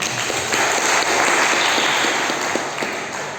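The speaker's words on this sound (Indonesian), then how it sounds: "Boleh tepuk tangan." Audience applause fills a church anniversary Mass and ceremony hall in Pontianak, a dense, loud burst of clapping that swells and then tapers slightly over a few seconds, with no talk over it.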